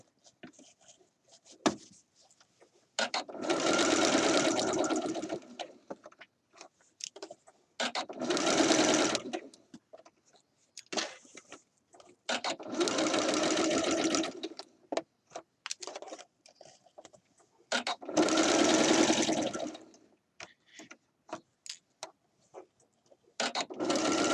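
A sewing machine stitches a shirt dress cuff in four separate bursts of rapid mechanical whirring, each a couple of seconds long, with quiet handling pauses between them.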